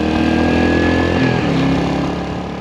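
A Royal Enfield Hunter 350 motorcycle idles close by on its stock exhaust, a loud, steady thumping single-cylinder beat with a slight dip and recovery in the middle.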